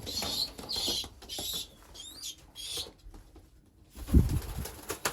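Soft cooing and rustling of racing pigeons in a loft, with scattered chirps and a brief louder flutter or thump near the end.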